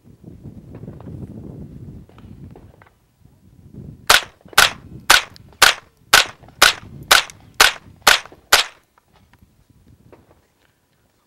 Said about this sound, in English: Okay, you fired last round